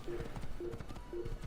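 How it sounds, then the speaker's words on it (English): Video game horse hooves clip-clop at a steady galloping rhythm beneath repeated short electronic beeps from an awareness tracker, at moderate volume with soft background game sound. "the beeping of the awareness tracker matches with my horse's hooves"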